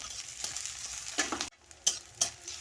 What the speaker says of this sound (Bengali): ওই তেলে প্রথমে আমি কাঁচা পেঁয়াজ দেব কাঁচা লঙ্কা দেবো ভালো করে ভেজে নেব